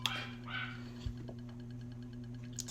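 A dog whimpers and gives a few short yips indoors, faint and intermittent over a steady electrical hum.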